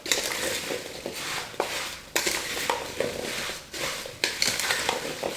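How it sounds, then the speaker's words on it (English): White sugar and cinnamon are stirred together in a bowl as the base for an apple crisp, giving close gritty scraping strokes with a few sharp spoon clinks and no speech. "1/3 cup of white sugar and 1/2 teaspoon of cinnamon. And we're just going to give that a good stir."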